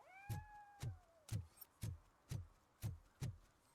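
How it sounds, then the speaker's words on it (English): A cat in RoboCop Rogue City meows close by, one drawn-out cry at the start, followed by a regular series of soft low thumps at about half-second intervals. "There's a cat that's just constantly meowing right next to me."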